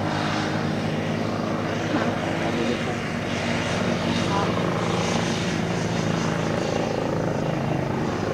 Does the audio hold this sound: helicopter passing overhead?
yes